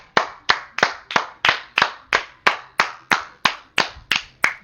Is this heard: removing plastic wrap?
no